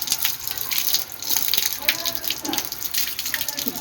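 Orchid roots being washed under running water: a steady, close gush of splashing water that continues for the whole stretch with no pauses.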